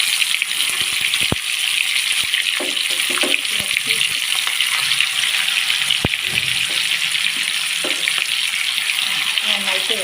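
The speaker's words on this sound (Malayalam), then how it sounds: "ഇനി ചിക്കൻ ഇതിലേക്ക് ഇട്ട് കൊടുക്കാം." Chicken drops into hot oil in a heated pan while cooking for a biryani. A steady hiss of frying runs throughout, with scattered clicks and scraping knocks from stirring.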